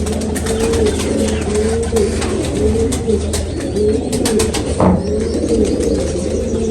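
Racing pigeons of the 222 breed coo in a loft, repeated low throaty calls close by over steady background noise, with scattered sharp clicks and a brief flutter of wings near the end.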